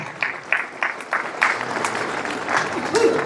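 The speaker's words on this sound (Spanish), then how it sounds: "Dale un fuerte palmas al Señor, hermano." A church congregation claps for the Lord during a sermon, in uneven bursts of claps that blend into a wash of crowd sound.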